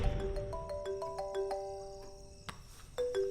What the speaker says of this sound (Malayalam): ഒരു ദിവസം അവൻ എന്നെ ഫോൺ ചെയ്തു.